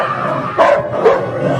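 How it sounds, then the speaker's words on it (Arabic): A dog that has burst out from inside a wall gives two quick, loud barks close by, each a short sharp yelp. "خرج كلب فجأة من جوه الحيطة"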